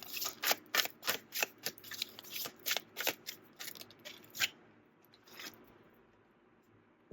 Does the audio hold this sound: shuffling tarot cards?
yes